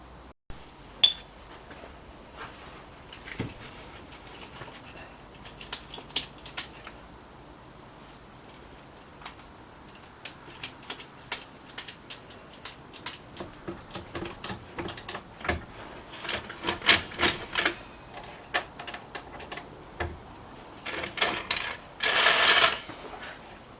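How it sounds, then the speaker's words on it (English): A bottle jack is worked under the rear axle of a Volvo 480, giving irregular metallic clicks and clinks from pumping and handling, ending in a brief louder burst of hissing or scraping. "Okay, onto the bottle jack."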